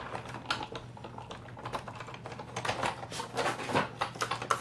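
A die-cutting machine presses stamp dies through paper to cut flower stems, giving a run of quiet clicks and rattling taps over a steady low hum, close and fairly soft.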